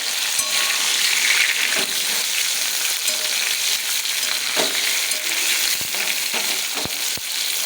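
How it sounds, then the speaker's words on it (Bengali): Potatoes frying in oil in a wok give a steady, close sizzle throughout, with brief clinks and scrapes of stirring and no talk. "তো আলুটা কি সুন্দর ভাজা হয়ে গেছে,"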